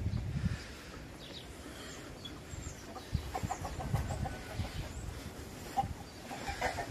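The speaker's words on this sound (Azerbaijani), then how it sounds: "Baxın, toyuqlar burada hal-hazırda yumurtlayır burada." Hens clucking in a backyard coop of a garden house with fruit trees, soft scattered clucks and low murmurs at a distance, intermittent and faint amid quiet outdoor ambience.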